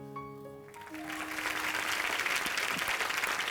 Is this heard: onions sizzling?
no